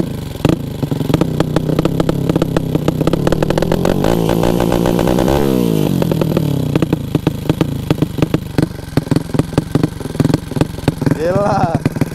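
A modified motorcycle engine tuned to sound like a helicopter runs loud and close, a fast chopping beat with revs swelling and dropping throughout, a brief rise near the end.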